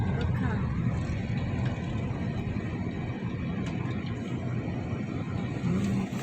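Cars passing on a road in hot weather outside, a steady traffic rumble with engine drone close by, constant through the clip.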